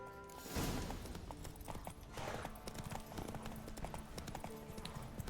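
Horse galloping in a race in the video game Witcher 3, with rapid, steady hoofbeats continuing throughout at close range over busy game ambience.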